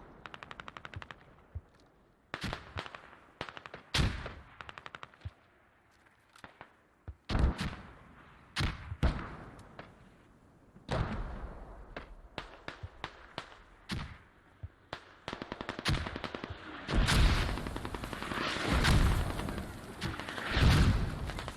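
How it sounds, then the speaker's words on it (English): Video game gunfire rings out during a competitive Squad match on the Kokan map, with sharp single shots and rapid bursts trading back and forth, some close and loud, others distant, plus heavier blasts toward the end. "nice shooting there, takes out Verido."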